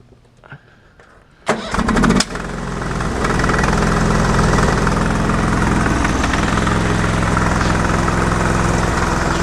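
A Briggs & Stratton 20HP V-twin engine on a Sears tractor cranks with a few choppy bursts, then catches and runs on steadily at a loud, close, rough drone.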